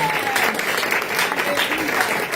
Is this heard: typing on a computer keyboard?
no